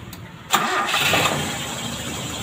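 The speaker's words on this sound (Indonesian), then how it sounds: "Mesin kita hidupkan." A car engine with a contact-breaker (platinum points) ignition is cranked and catches abruptly, then settles into a steady, close idle hum that continues unbroken.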